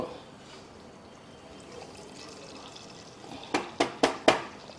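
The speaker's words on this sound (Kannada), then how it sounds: "ಈಗ ಹಿಂಗಂದು ತಿರುಗಿಸ್ಕೊಡ್ತಾಯಿದ್ರೆ ಚಟಾಪಟ ಅಂತ ಸೌಂಡ್ ಬರುತ್ತೆ" Mustard seeds, cumin and curry leaves go into hot oil for tempering a drumstick sambar: a low simmering hiss, then four quick, sharp pops and crackles close by near the end.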